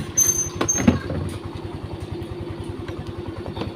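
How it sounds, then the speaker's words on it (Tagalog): A small two-stroke scooter engine idles close by with a steady, rapid putter, a few clanks and rattles near the start. "Testing natin ating scooter kung okay na."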